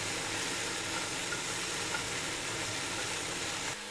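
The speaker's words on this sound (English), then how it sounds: "Man, that meat is really sizzling." Meat browning in a pan for a Belgian beer and black bear stew gives off a steady, dense sizzle, close and continuous with no talking over it.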